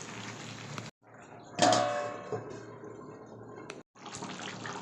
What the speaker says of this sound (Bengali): তো আমি জল দিয়েছি, এইটুকুনি জল অবশ্য রাখবো